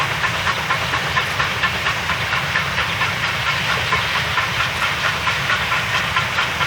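A steam locomotive on a mountain railway hisses steadily, a loud continuous rush of escaping steam over a low rumble, with faint rhythmic clicks from the wheels on the rails and no talking.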